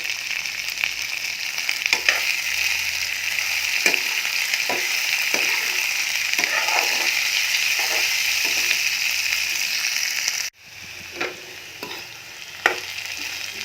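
Fried rice ingredients sizzle steadily in a pan with a constant hiss and scattered stirring clinks, then the sizzle drops suddenly near the end and resumes more quietly with a few scrapes.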